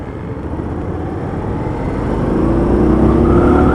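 An Indian Scout Sixty motorcycle being ridden on a test ride in Spain, its engine note droning steadily and rising slightly as it builds speed, with wind and road rumble mixed in and no talking.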